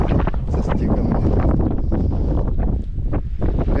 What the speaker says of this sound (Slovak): ako fúka vietor, tak normálne je počuť, ako zosúva kamienky a rôzny ten bordel skalnatý